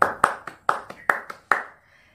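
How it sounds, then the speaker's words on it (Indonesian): A small classroom group claps for a classmate, about seven sharp, close hand claps in a quick uneven burst lasting just over a second, then silence. "Tepuk tangan buat temannya."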